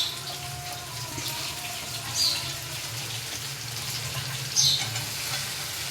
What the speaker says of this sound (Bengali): এই যে মশলাটা কষা হয়ে গেছে, এর মধ্যে আমি সব সবজি অ্যাড করে দেবো।